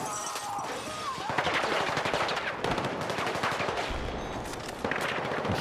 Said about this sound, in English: I'm hearing a lot of gunfire and not seeing anyone.